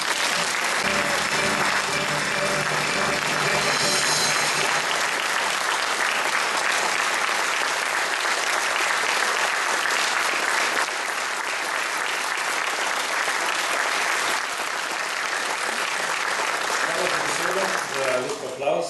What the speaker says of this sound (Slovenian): za lep aplavz.